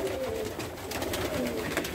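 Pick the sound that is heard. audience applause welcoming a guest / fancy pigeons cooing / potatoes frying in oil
fancy pigeons cooing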